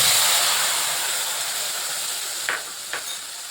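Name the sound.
black cumin and green chilies frying in oil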